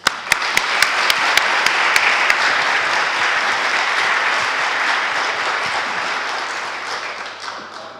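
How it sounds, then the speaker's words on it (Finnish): A seminar audience at a regional development event in Mikkeli applauds steadily, a dense wash of clapping from many hands that starts with a few sharp individual claps and holds for about eight seconds before slowly thinning out. "eiköhän me anneta Mikkeli-aplodit sitten"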